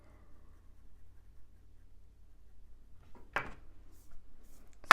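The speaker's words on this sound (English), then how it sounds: "This is a bit scratchy, this pencil at the moment" A graphite pencil scratches across paper while drawing, with soft, faint strokes close by and two sharper, louder scrapes near the end.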